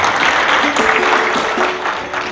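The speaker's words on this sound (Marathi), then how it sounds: "जे नाही आले त्यांच्यासाठी एकदा जोरदार टाळ्या वाजवू." A crowd at a family get-together gives steady, dense applause that continues loud and close throughout, with a faint tone sounding over it.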